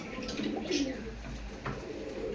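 Soft, low cooing of a male pigeon, a few rolling coos close to the microphone with faint background noise.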